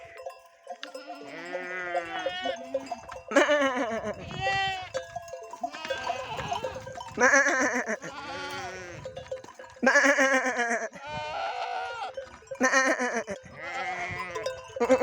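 Sheep and a days-old lamb bleat on a mountain pasture, repeated wavering calls in short bursts, some near and loud, others softer, with faint background sounds between.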